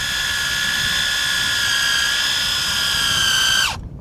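A high, steady whine of a drill spinning continuously into wood, close and loud, then winding down abruptly at the end.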